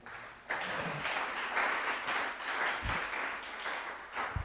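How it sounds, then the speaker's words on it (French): A church congregation applauding during a Christmas Eve service, dense sustained clapping from many hands close by, swelling and fading over a few seconds with a few louder thumps. "On acclame le Seigneur."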